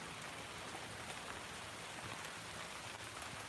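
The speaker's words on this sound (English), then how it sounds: "When it's raining like this, it seems like we are in a rain forest, right?" Heavy rain falls steadily on a temperate rainforest garden on Salt Spring Island, Canada, a dense, even hiss of countless drops on foliage and surfaces with no pauses, close and continuous throughout.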